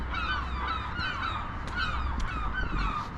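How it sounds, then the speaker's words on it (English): Seaside birds at Rhyl honking and cawing, a run of repeated harsh calls over steady background murmur, moderately near and fairly quiet overall. "The birds."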